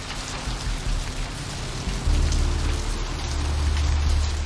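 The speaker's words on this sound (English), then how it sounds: "Rain!" Steady rain in the video game Vampire: The Masquerade – Bloodlines hisses over everything, growing heavier partway through with a deep low rumble joining in.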